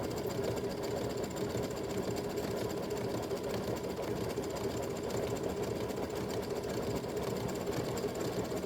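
A sewing machine runs steadily, stitching a feathered bird decoration, a continuous even whir with no pauses, fairly close.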